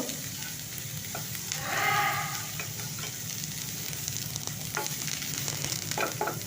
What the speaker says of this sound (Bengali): খুব ভালো করে নেড়ে নেড়ে আমি ভেজে নেব